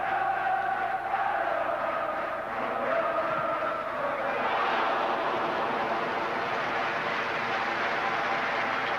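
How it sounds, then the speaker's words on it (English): A large stadium crowd at a Bayern Munich versus Borussia Dortmund football match rises in a sustained ooh and ahh, a dense distant roar of many voices that swells and holds throughout. "Now the crowd oohing and ahhing"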